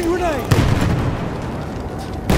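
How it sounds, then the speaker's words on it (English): A grenade goes off in the video game RIOT Platoon, a sharp boom with a second blast near the end, while a character's voice speaks briefly at the start. "Slinging grenade!"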